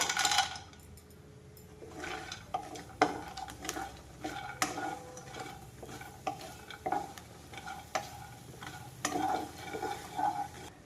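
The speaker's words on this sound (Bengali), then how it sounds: "এবার আমি এই বড়িগুলো ভেজে নেব।" Dried lentil bori frying in hot mustard oil in a wok, with a steady sizzle and repeated scraping and stirring clinks that recur all the way through, fairly quiet and close with no voices.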